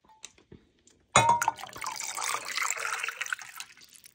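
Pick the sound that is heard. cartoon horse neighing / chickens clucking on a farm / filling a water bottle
filling a water bottle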